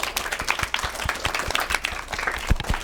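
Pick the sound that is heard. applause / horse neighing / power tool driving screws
applause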